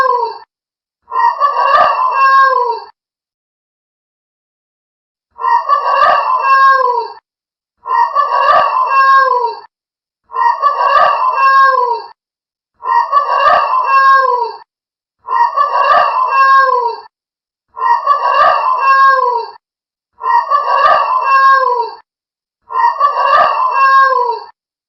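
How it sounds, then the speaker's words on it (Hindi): Big hen or rooster crowing loudly, nine near-identical calls repeating at a steady rhythm with short silent gaps, close and clear with no other sound. "वो बड़ा मुर्गी जोर जोर से चिल्लाने लगी"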